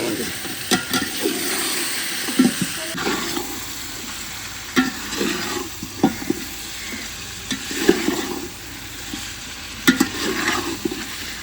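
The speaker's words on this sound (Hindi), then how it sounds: "5 मिनट के लिए गोश्त को हम प्याज लहसुन अदरक के साथ भून लेते हैं।" Steady sizzling of beef frying in a pan with onion, garlic and ginger, with repeated scraping and stirring clanks throughout, close and continuous.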